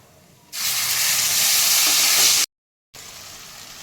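Ground spice paste frying in a pan with turmeric and Kashmiri red chilli powder, giving a loud, steady hiss and sizzle close by. The sound breaks off briefly, then returns more quietly.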